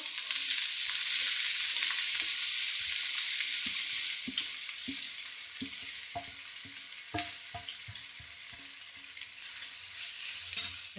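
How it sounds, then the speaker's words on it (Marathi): Onion goes into hot oil in a pan with browned garlic while cooking chicken biryani, and a strong steady sizzle fades gradually as stirring adds soft scrapes and taps. "आता तातूंत आमी कांदो घालुया।"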